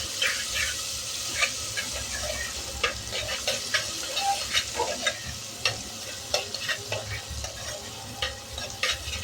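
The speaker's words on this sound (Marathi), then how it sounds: "त्यानंतर त्यात टोमॅटोचे तुकडे घालणार आहोत, ते परतून घेणार आहोत" Tomato pieces are sautéed in a pan for a drumstick curry, with a soft steady sizzle under scattered scraping taps of a spoon stirring.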